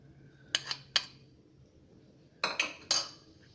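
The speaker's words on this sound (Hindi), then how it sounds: "इन मसालों को हम मिक्स करेंगे और इन लेग पीस के ऊपर बहुत अच्छी तरह से इसको लगा के" A spoon mixes spices over chicken leg pieces in a bowl, making a few sharp clinks in two clusters against a quiet background.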